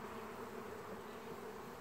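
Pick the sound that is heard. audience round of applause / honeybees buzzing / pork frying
honeybees buzzing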